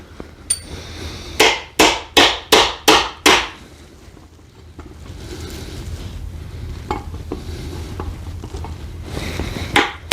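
Six sharp, evenly spaced taps of a small hammer ring out loudly up close, followed by quieter scattered knocks over a low background hiss.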